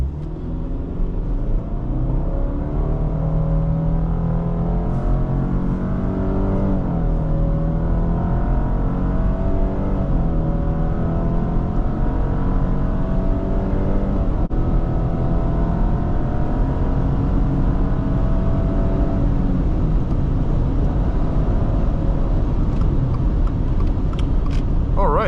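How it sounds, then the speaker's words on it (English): A 2021 Subaru Outback 2.5i pulls away from a stop under hard throttle, its engine drone rising steadily in pitch through the gears with brief dips at each shift, loud and close from inside the cabin. "add a little bit of gas, and then when you want to go, just add more throttle"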